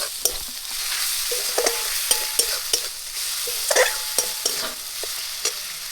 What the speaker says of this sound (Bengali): পেঁয়াজ ভাজাটা হচ্ছে